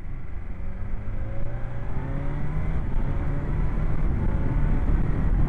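A 2023 BMW S1000XR TE motorcycle accelerates uphill, its engine climbing steadily through the gears in a continuous, loud rising drone with wind rush from the onboard position.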